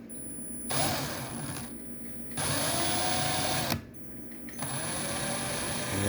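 A power drill turning a VEVOR SD-25 wire stripper whirs steadily at a high pitch, cutting out and restarting a few times, with a constant electric whine running through it.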